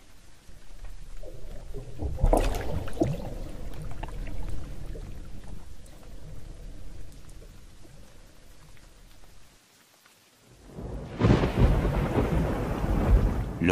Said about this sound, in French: L'orage va bientôt éclater.